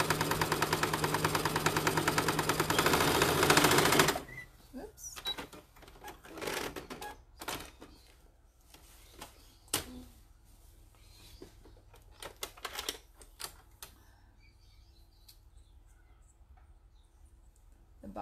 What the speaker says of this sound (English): I'm going to sew along the bottom.